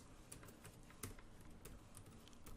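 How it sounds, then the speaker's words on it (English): Someone types on a computer keyboard, quick light keystrokes in an uneven rhythm with a few sharper clicks mixed in, close and fairly quiet against a faint room hiss. "So as I'm typing it,"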